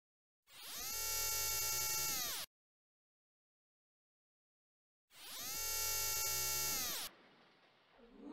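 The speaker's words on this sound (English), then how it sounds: "sounds like drilling." A drilling noise from the Xenogears video game sounds as two loud, steady mechanical whirs of about two seconds each, separated by silence, the second trailing into a lower rumble.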